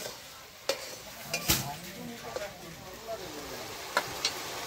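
Ginger and cumin paste fries quietly in a pan for a fish-head and cabbage dish, a faint low sizzle broken by scattered utensil clicks and scrapes as it is stirred.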